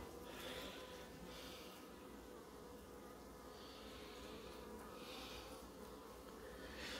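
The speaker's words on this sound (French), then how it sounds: "Les abeilles sont belles, c'est calme" Dense, steady buzzing of many honeybees at a hive fills the air, a close, continuous hum that swells slightly in places.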